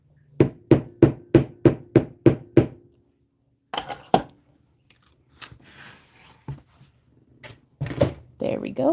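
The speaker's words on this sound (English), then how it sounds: "I think I'm actually going to hammer the point on this one." A hammer strikes the point of a wire-wrapped jewelry piece in seven quick, evenly spaced metallic taps. A pause follows, then a few scattered knocks and handling noises close by. No one speaks.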